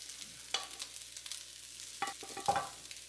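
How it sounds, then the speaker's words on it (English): Basmati rice dropped into a pan of browning beef for fried rice, giving a soft, faint sizzle with a few scraping stirs and short bursts of crackle. "Next, we're going to add the basmati rice."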